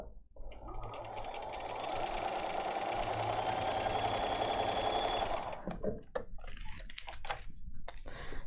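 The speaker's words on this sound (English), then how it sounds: "So we're going to sew." A sewing machine stitches fabric for a geode quilt block, a steady rapid whirring run for about five seconds, close and moderately quiet, followed by a few clicks and handling taps.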